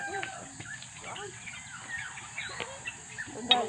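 Chickens cluck and call in short bursts around a farmyard, while people talk over them.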